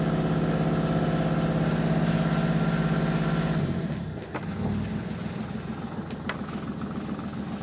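A boat's diesel engine runs at a higher throttle with a steady throb, then drops and settles into a lower, softer, steady chugging tick over idle, heard up close.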